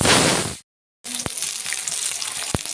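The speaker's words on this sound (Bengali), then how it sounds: "মাছগুলো ভাজা হয়ে গেছে আমি একটু একটু করে ভেজে নিয়েছি" Katla fish pieces frying in hot oil, a dense close sizzle that cuts to silence for a moment, then returns softer and steady with a couple of sharp clicks.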